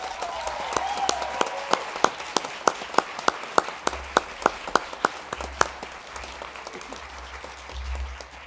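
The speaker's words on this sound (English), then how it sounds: "Let's give them one more round of applause." Audience applauding a graduating class at a graduation ceremony, a broad wash of crowd clapping with a few loud, sharp claps standing out near the microphone in a steady rhythm, fading slightly toward the end.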